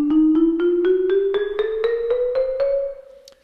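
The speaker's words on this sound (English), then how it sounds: "those are the 12 consecutive keys on a piano" Piano keys struck one after another in an even rhythm, climbing a single octave through twelve consecutive white and black keys, each note ringing briefly before the next.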